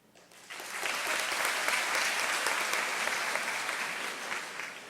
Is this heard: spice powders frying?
no